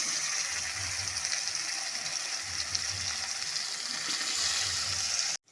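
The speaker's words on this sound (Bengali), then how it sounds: "এখন আমি ওই তেলের মধ্যে ম্যারিনেট করা মাছটাকে দিয়ে দেব।" Marinated rui fish sizzles loudly and steadily in hot mustard oil tempered with nigella seeds, a dense close crackle with faint low bubbling that runs without pause until it cuts off at the very end.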